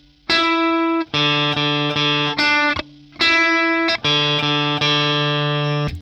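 An electric guitar plays a riff, clean and bright, with rhythmic plucked note groups and brief choked gaps repeating in a steady groove, with no talking over it.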